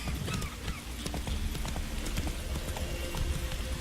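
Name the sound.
horse Roach galloping in video game The Witcher 3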